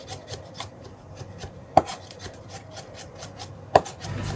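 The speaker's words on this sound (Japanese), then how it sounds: "ニンニクは潰してからみじん切りにします" A knife minces crushed garlic on a board in quick, steady light taps, with two sharper, louder chops standing out, close and clear.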